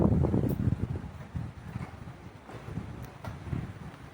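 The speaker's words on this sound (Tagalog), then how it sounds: "Medyo malakas yung hangin dito." Strong wind at a beach resort on a marine base by the sea buffets the microphone in loud, uneven low gusts that rise and fade throughout.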